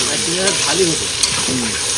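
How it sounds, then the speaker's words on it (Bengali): Potatoes fry in a pan while prawn curry is being cooked, giving a loud, continuous sizzle with stirring, as a voice talks over it. "আলু দেওয়া হচ্ছে বুঝলি পারি আলু দেওয়া হচ্ছে"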